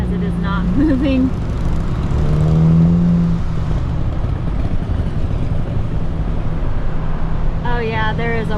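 A car drives west along Fruitville Road in Sarasota after Hurricane Milton, a loud steady road rumble and engine drone from inside the cabin, with people talking over it at times.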